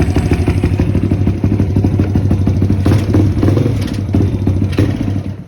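A small SSR YX140 pit bike engine, freshly rebuilt and running with a slight bog, idles and revs up and down up close, a steady mechanical clatter with brief throttle surges and no talk.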